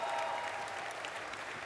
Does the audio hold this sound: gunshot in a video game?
no